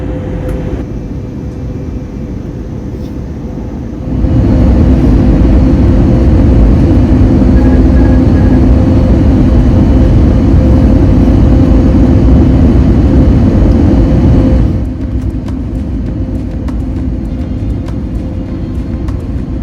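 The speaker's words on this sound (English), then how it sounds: "We touched down only slightly late on runway 24" A British Airways jet lands at Edinburgh Airport, heard from inside the cabin as a steady low engine hum that jumps to a loud, rumbling roar of touchdown and reverse thrust before easing back down.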